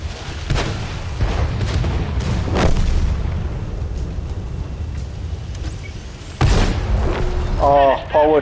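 Tank cannon shots from the video game World of Tanks, a few loud, sharp booms spaced seconds apart over steady engine rumble, with voices talking in between.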